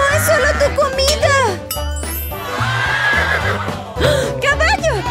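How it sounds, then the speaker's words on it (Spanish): A horse whinnies on a farm amid loud, busy sound with jingling tones, a rising and falling neigh under excited voices of a child and adult. "¡Caballo!"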